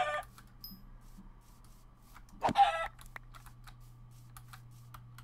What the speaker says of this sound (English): Okay, let's kill this chicken as well.